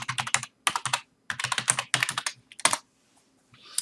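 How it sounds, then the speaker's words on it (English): Keyboard typing as an email address and password are entered, rapid clusters of key presses in bursts with short pauses, close and clear with no talking. "So now I'm gonna type my email address, and of course my password."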